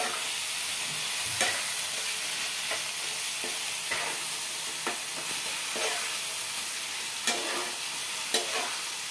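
Roasted brinjal bharit with salt, turmeric and plenty of coriander stirred in a hot pan, a continuous soft sizzle with occasional light scrapes and taps of the spoon, close and steady, no voices.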